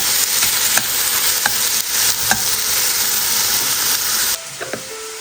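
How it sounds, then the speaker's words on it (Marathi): Onion, tomato and capsicum sautéing in a pan for a Mumbai street-style jini dosa give a loud, continuous sizzle with spatula scrapes, easing off toward the end, and no talking. "यामध्ये आपल्याला टॉमॅटो आणि शिमला मिरची सोबतच टाकायचे आहे आणि हे पण नॉर्मल आपण जसं परतून घेणार आहोत तसं परतून घ्यायचं"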